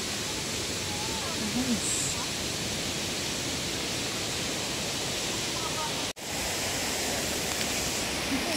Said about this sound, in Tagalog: Ayan, narinig ko ng falls.